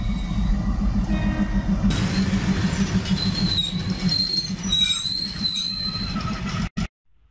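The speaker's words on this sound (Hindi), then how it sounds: "ऊपर से भी मालगाड़ी नीचे से भी मालगाड़ी।" Freight trains run on tracks above and below near Katni junction, a steady low rumble of wagons with high metallic wheel squeals rising midway, ending abruptly.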